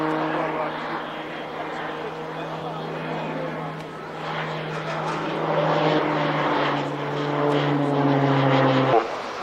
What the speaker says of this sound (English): Yakovlev Yak 50.